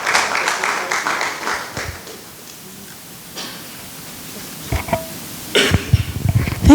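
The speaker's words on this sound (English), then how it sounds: "Let's welcome her with a hand of applause." Applause from the audience at a university accounting and finance dialogue on the mid-year budget, a steady patter through the first few seconds that then thins out, followed by a few louder scattered noises near the end.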